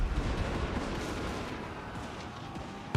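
Cannon fire in Total War Warhammer 3 booms in a dense, continuous battle din of repeated low blasts and rumbling, with a sharp louder report right at the end.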